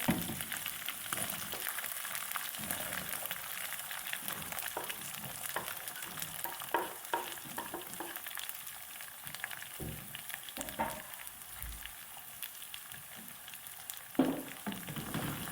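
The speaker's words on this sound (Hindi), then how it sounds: "प्याज को फ्राई कर लेंगे थोड़ा सा।" Onions fry in a pan for an aloo palak dish, a soft steady sizzle with occasional stirring scrapes and clicks, faint and close, with no voices.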